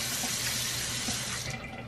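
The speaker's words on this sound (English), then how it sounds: "then just rinse your mouth with water" A faucet runs steadily into a sink while water is drawn for rinsing the mouth after a strawberry teeth-whitening routine, a continuous close hiss of flowing water that eases slightly toward the end.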